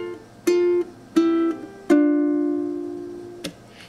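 A ukulele picks three plucked notes in quick succession, the third ringing out long and slowly decaying, then a fourth short note near the end; the phrase is the second measure of Twinkle Twinkle Little Star in an alternate rhythm, close and clear with no talk.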